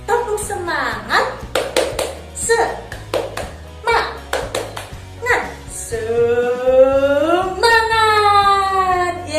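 Children clap a rhythmic cheer chant at a Sunday school church service, with sharp group claps in patterns between bursts of young voices calling out and a sung, drawn-out shout near the end.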